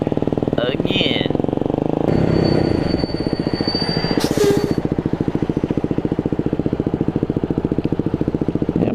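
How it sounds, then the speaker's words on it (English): Brakes on a Culligan truck squeal faintly in the distance during wet, rainy conditions, a thin high whine that rises over a steady rhythmic engine-like rumble and rain noise. "brakes on that Culligan truck or whatever it is back there."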